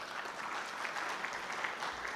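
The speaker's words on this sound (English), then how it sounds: "Let's clap for the people of Pakistan." An audience at a tea convention applauds in a steady, even wash of clapping heard from some distance, fairly faint but continuous throughout, with no voices on top.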